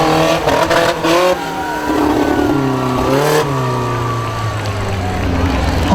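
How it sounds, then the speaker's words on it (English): A monster truck with a 145 horsepower Honda motor revs at a freestyle competition at the Armada Fair, its engine rising and falling loudly in long sweeps, with crowd noise and voices around it. "This freestyle competition with these monster trucks."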